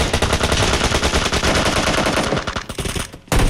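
Rapid automatic gunfire in the mobile game PUBG Mobile during a tournament match, loud sustained bursts of shots rattling almost nonstop, with a brief gap near the end before firing resumes.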